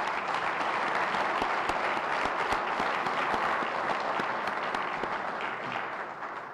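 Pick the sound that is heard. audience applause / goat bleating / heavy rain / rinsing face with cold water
audience applause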